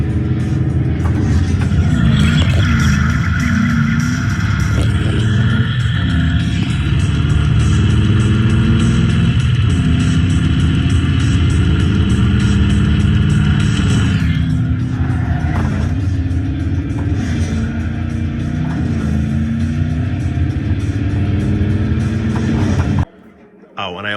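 A loud car engine drones and rumbles throughout, its pitch shifting as it revs up and settles, ending abruptly near the close.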